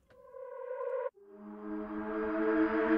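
Cinematic trailer riser effect from a sound library: a tonal sweep cuts off after about a second, then a second layered tone swells steadily louder and brighter, building with hiss, no talking.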